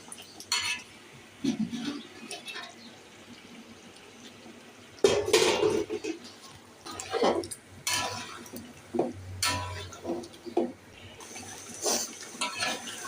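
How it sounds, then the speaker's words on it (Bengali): Spice masala is stir-fried in a cooking pot, a spatula scraping and clattering against the metal in close, uneven bursts, with a soft voice underneath at moments. "এই যে দেখুন মশলাটাকে কষাবো"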